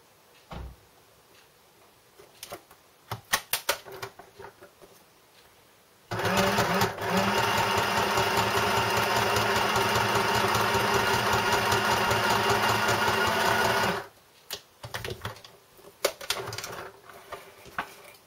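A sewing machine runs steadily for about eight seconds, stitching a zigzag, loud and close, framed by softer handling clicks before and after.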